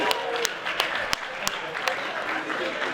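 An audience claps after a dance performance at an African heritage gala night, a steady, moderately loud wash of applause with a few sharper individual claps standing out.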